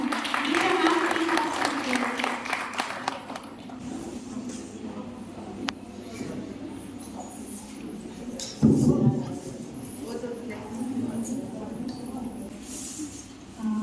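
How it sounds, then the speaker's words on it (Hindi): Audience clapping swells briefly at the start of a motivational speech on women's empowerment, then fades into a murmuring hall with occasional shuffles and bumps. "तालियां जोरदार।"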